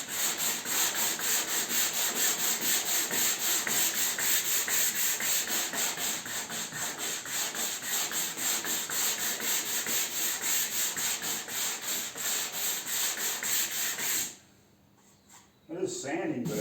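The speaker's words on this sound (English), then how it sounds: "It is sanding, but it's still not good." Steady, continuous abrasive sanding over hardened body filler on a Jaguar, loud and close, running unbroken before stopping abruptly near the end.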